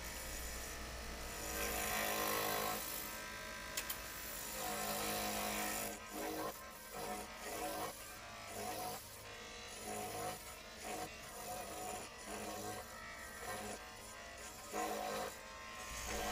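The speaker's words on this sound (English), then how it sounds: "I am using the gouge, and I'm going ahead and getting the blank shaped up" Continuous scraping and whirring of a wood lathe gouge shaping a spinning pen blank, steady and fairly loud with brief pauses toward the end.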